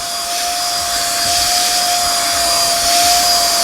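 A Raycop Go portable UV vacuum cleaner runs on its low setting, making a steady, loud motor whine with an airy hiss and a fixed high tone that rises slightly in level, close and without speech.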